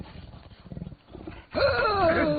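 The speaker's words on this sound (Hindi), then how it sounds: "ये तो बाघ है" After a stretch of low rumbling noise, a loud tiger roar bursts in close by, harsh and sustained with wavering pitch.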